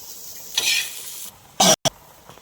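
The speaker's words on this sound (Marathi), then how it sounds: "इथे गॅसवर तवा गरम करायला ठेवला आहे त्याची मी थोडासा कांदा भाजून घेणार आहे" Short bursts of sizzling as onion dry-roasts on a hot griddle over a gas flame, with a sharp scraping clatter near the end. No one speaks.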